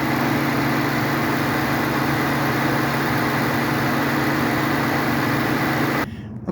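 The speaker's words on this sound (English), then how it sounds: "with the motor running, I haven't heard anything of any concern in this motor" A 2018 Ford F-150's 5.0 V8 idles steadily at close range, a constant low rumble with a tonal hum and no talk, cutting to near quiet in the final half second.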